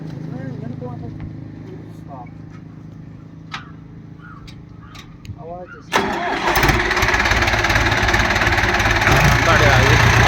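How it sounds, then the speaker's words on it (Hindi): A Powertrac 4455 tractor engine cranks and catches, then settles into a loud, steady rumbling idle; people talk before it starts, with faint chirping in the background. "एक बार इसकी आवाज़ सुना दो स्टार्ट करके।"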